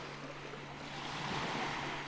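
Sea waves wash onto the beach at Cape Fiolent near Sevastopol, a steady soft surf hiss with a gentle swell, joined by light wind noise on the microphone and a faint low hum.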